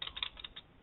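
Quiet computer keyboard typing at a desk, a short run of soft, irregular key clicks entering a hostname command, faint and close with no voices.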